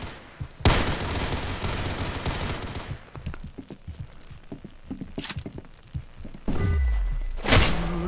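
Candy cane machine gun firing in a Roblox Arsenal match: rapid bursts of video game gunfire, loud and close, with a long stretch of shots at the start, then scattered thumps and two more sharp bursts near the end.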